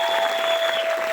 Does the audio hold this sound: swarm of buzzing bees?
no